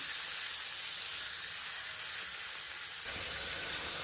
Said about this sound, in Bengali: এবার তেলের মধ্যে দিয়ে দেব চিংড়ি মাছ।